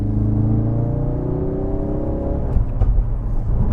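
A Ford Focus RS engine in sport mode hums loudly from inside the cabin, its pitch climbing steadily under acceleration before easing off and giving way to a low rumble.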